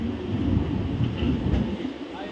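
A passenger train rolls into Pathankot station, its steady low rumble and rolling wheel noise continuous and fairly close from start to finish, with no clear clatter or squeal breaking through.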